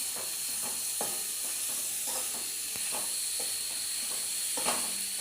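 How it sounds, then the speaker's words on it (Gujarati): Leafy greens stirred in a hot pan, a steady steamy hiss with soft repeated scrapes of a spatula roughly every half second, close and fairly quiet, no voices. "તો પહેલા થોડી નાખી દઈએ અને ફેરવી દઈએ."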